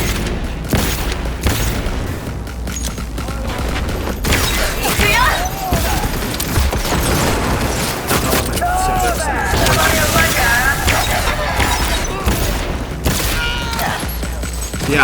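Gun in Cyberpunk 2077 firing continuously during a mission fight, loud dense volleys and booming impacts layered over a busy game soundscape, with a voice talking over parts of it.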